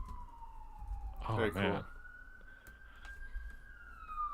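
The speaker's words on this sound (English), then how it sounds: "Can you guys hear that siren?" A game-session siren wails in a long, steady rising-then-falling tone, fairly clear in the mix, while someone briefly speaks over it near the start.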